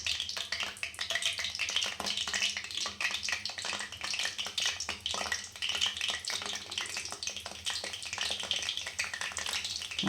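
Aloo samosas deep-fry in hot oil, giving a steady, dense sizzle with crackling bubbles that continues without a break at close range.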